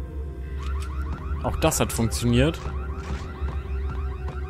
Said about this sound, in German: Ist hier unten die Alarmanlage?